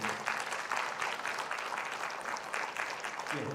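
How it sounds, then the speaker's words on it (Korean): A church congregation applauding during a Sunday worship service, a steady wash of many hands clapping with a bit of voice mixed in. "박수로 크게 축복해 드립니다"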